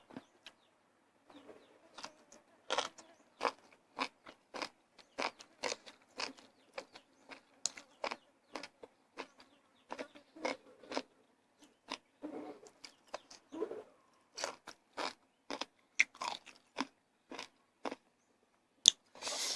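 Crisp pork rinds (khaep mu) are bitten and chewed close up, with sharp crunches coming in irregular bursts and short quiet gaps between them.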